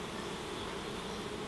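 Dense, steady buzzing of many honeybees in a wild hive built inside a kitchen cupboard, close and continuous with no talk.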